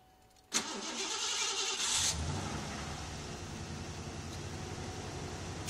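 A 1986 Lincoln Town Car with a 5.0 engine cold-starting: a brief cranking burst, then the V8 catches and settles into a steady, fairly loud idle close by, without talking.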